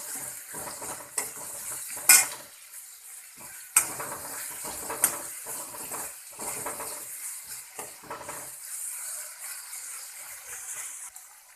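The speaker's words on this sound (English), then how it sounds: "At this stage, I am adding onion." Chopped onions frying and sizzling in a pan for onion and tomato sambar, a steady hiss with a few sharp clanks and stirring scrapes of a utensil against the pan, close and without talk.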